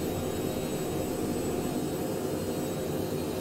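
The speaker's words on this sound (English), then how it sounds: "So here is the Mustang. We are taking off from Inverness, Scotland" A Cessna Citation Mustang jet climbs out of Inverness, Scotland, in Microsoft Flight Simulator 2020, its engines holding a loud, steady roar with a constant whine, heard alone.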